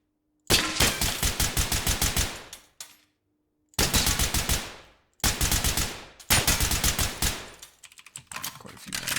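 Rapid automatic gunfire from the tactical shooter Ready or Not, several loud close bursts of fast shots separated by brief silences, alone without talk.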